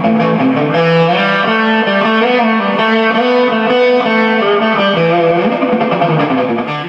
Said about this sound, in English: Sounds like real, true, old-school spring reverb